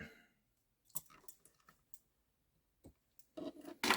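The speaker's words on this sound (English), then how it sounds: "then I'm going to snip." Scissors snipping thread at a fly-tying vise while tying a Squirmy Wormy fly, giving sparse, crisp close clicks and ticks separated by silence, with a louder rustle of handling at the end.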